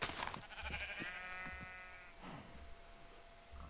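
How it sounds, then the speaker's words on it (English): A sheep bleats in the video game Minecraft, modded as FTB Infinity Evolved, giving several wavering bleats over about three seconds against quiet game ambience, with no speech. "there's a sheep up there."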